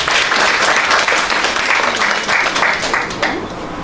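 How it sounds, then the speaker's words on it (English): Audience at a welfare association launch event in Dubai applauding committee members, a thick burst of clapping that tapers off slightly toward the end. "Can you put hands together and just clap for them?"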